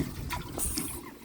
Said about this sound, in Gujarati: હવે ધોવાની છે આગાસી, તો એના માટે પાણી નાખવું પડશે